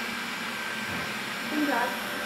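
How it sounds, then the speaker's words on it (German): A Xiaomi Roborock S50 robot vacuum cleaner runs with a steady whirring hum and a thin high whine, fairly quiet and even throughout, with a faint voice briefly in the background. "Das ist seine Staubsauglautstärke."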